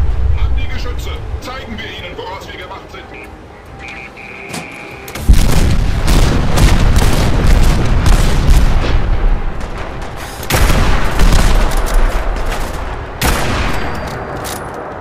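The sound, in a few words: gunfire from the player shooting in video game Fallout 4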